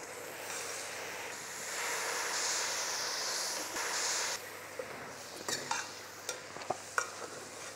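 Military hotel style mutton chops with a little water added, cooking and being stirred in a pan: a steady sizzling hiss that gives way to scattered sharp pops and scrapes near the end, with no voices.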